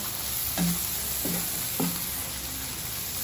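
Baby squid adobo fries in a pan as its broth cooks away, a steady close sizzle broken by a few knocks of a utensil stirring, with no talking.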